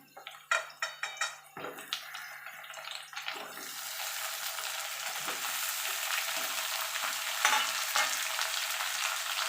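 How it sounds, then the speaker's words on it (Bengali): Potatoes and pointed gourd fry together in an oiled pan on low-medium heat for a vegetarian dalna: a few spatula knocks at first, then a rising, steady close sizzle that fills the rest. "এবার আলু আর পটল একসঙ্গে একটু ভাজা ভাজা করে নেবো"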